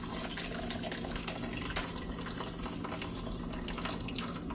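Chicken broth from a rotisserie chicken is strained, pouring in a continuous splashing stream with small irregular spatters and drips throughout.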